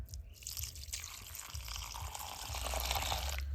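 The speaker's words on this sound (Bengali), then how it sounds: "দইনা পাতারি কাইটা নিছি এখন বেশ সুন্দর করে ধুয়ে নেব" Chopped coriander leaves are washed in water, giving faint trickling and splashing with small drips that swell slightly toward the end.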